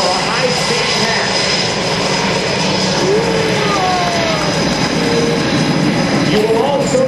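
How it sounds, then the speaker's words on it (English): C-17 Globemaster III military transport jet making a high-speed flyover pass at a joint services open house air show, a loud, close, continuous engine roar that fills the whole stretch without letting up. "take a look to the left for a high-speed pass"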